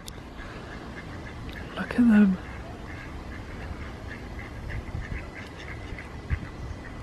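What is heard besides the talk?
ducks quacking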